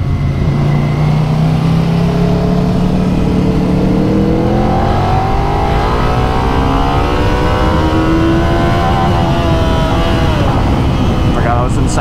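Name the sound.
Suzuki SV650 motorcycle engine revving to the rev limiter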